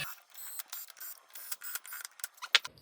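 A ratchet clicks in quick bursts as bolts are tightened on an engine during timing setup, close and distinct, with short pauses between runs of clicks and a sharper snap near the end.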